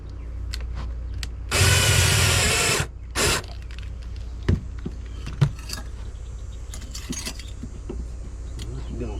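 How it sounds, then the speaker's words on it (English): A drill drives self-tapping screws into a metal panel backed by insulating foam, with a sustained whirring burst, a second short burst, then scattered clicks and handling knocks nearby. "now these are self-tapping screws, and that is metal, nothing between there except some insulating foam"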